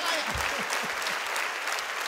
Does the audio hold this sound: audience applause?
yes